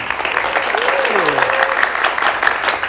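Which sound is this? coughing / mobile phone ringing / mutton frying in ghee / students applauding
students applauding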